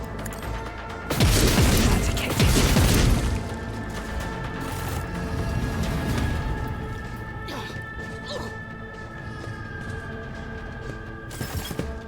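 Gunfire in the video game Warhammer 40,000: Rogue Trader, a loud burst of booming crashing shots up front, followed by clanking mechanical game sounds and a final sharp hit.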